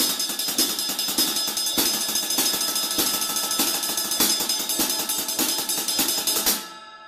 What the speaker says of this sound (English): playing 32 notes as single strokes and then going into 16 triplets,